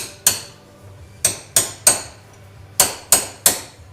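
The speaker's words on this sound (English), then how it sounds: "we got a hammer and a punch, and we're going to drive this race in here" Sharp metallic hammer blows on a punch driving a bearing race into a harrow wheel, seven ringing strikes in an uneven rhythm, some in quick pairs, close and loud with brief decays.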